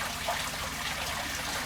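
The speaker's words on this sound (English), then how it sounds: "Waterfall's working well" Small aquarium waterfall trickling steadily into a planted tank with mosses, a soft continuous splashing wash close by with no voices.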